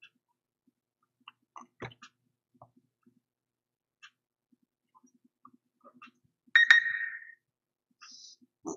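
A short electronic phone notification tone sounds once, fairly clear over a quiet room with scattered faint clicks and small noises, then a brief second chime near the end.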